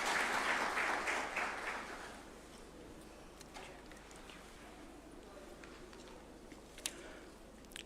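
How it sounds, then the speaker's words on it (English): Audience applause greets a judge approaching the swearing-in area at a COMESA judges' ceremony at State House, Nairobi. It is dense and fairly loud for about two seconds, then thins out and fades into a quiet room with a few faint ticks. "A round of applause, please, as he approaches the swearing-in arena."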